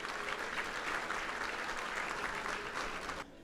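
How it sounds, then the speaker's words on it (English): Audience at a rugby union awards evening clapping steadily for about three seconds, a dense even wash of applause that cuts off abruptly at the end. "let's give them a round of applause"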